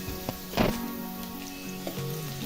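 Green chillies hit a hot pan alongside garlic and sizzle steadily, with brief stirring knocks, close and moderately loud, with no talk.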